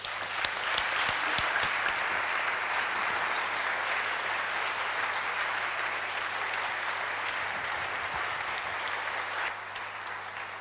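A lecture-hall audience gives sustained, dense applause welcoming Nobel physics laureate Professor Arthur B. McDonald in Uppsala, a steady roar of clapping that tapers slightly at the end.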